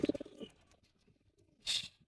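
Pigeons at a Dutch-bred pigeon loft give a couple of short, soft coos close by, with a brief brighter flutter or rustle of wings near the end.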